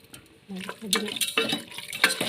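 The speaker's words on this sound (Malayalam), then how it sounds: "നന്നായി ഇളക്കി യോജിപ്പിക്കാം" A meat and rice mixture being stirred in a pan, with quick scraping and clinking strokes close by, and a voice briefly heard over it.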